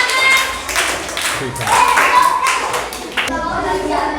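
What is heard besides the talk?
class clapping for a correct answer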